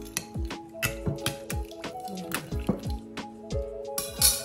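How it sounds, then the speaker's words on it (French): Heated sugar-water syrup is poured while making a coconut and poppy seed cake, giving soft close drips and liquid splashes with small clinks, with a voice talking now and then. "Donc j'ai chauffé mon eau avec le sucre. Je vais verser ça."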